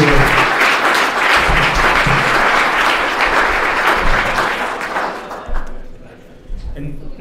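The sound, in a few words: audience applause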